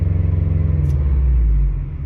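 A Subaru S210, the performance edition of the STI, cruising on the road with a steady low engine and road rumble, close and continuous throughout.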